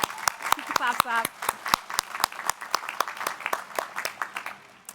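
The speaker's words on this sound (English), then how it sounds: "Clap, clap." Distinct, evenly spaced hand claps ring out in a large ceremony hall at Harvard Law School's Class Day, a sparse steady rhythm of individual claps with a short burst of voice early on.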